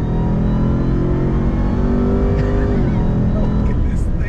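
A 2021 Ram TRX pickup truck on a track, its loud engine note rising and holding steady under acceleration before easing off as it brakes, with tire and road noise throughout and faint talk in the cabin.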